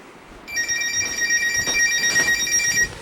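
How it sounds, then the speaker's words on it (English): A telephone rings in a home with one sustained electronic ring of bright, steady tones that starts abruptly and stops just before the end, heard alone over a quiet room. "Answer it. Get the phone."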